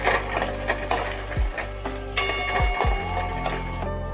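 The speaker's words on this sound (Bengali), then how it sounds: "দিয়ে দিচ্ছি মাখানাগুলো অল্প করে রোস্ট করে নেওয়ার জন্য।" Makhana (fox nuts) roast in ghee in a pan with a continuous sizzle, light rattling and a few scraping stirs, close and moderately loud.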